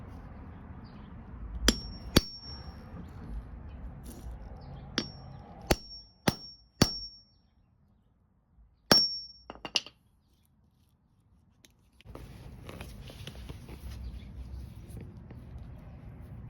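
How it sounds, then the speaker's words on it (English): Several sharp metallic strikes of a regular hammer crimping a copper lug onto a 2/0 copper cable, some in quick pairs, with quiet pauses between and a low rustling background near the end. "I just use a regular hammer."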